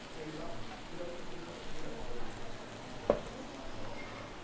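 A smash burger patty sizzles on a griddle after being flipped, a soft, steady frying hiss, with one sharp tap partway through and a voice talking over it.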